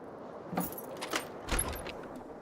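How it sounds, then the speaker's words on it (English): Keys jangle in a few quiet, separate bursts inside the video game Disco Elysium, set against a low ambient backdrop. "I heard some rattling of keys"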